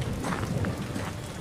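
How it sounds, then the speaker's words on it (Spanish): Steady rain falls during a storm, a dense, even hiss of drops lasting throughout with no voices. "Vemos que sigue lloviendo"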